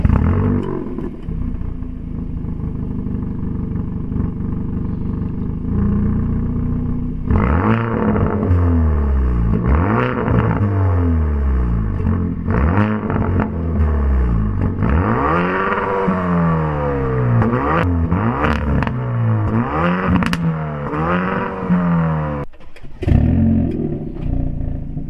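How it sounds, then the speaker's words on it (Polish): A pre-facelift Hyundai i30 N hot hatch is revved hard through its exhaust in repeated rising and falling sweeps, loud and close, with a quieter idle at the start and a few sharp cracks between pulls. "No to czas porównać wydechy, czas na przedlifta."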